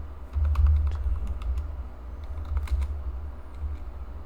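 Fast bursts of clicking keystrokes on a computer keyboard, close and fairly quiet, with a low steady hum underneath.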